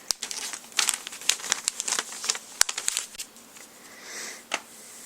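A paper instruction leaflet for a LEGO Education Spike Prime set is folded up close by, giving a run of crisp crinkles and sharp paper snaps, busy at first and then thinning to a few soft rustles.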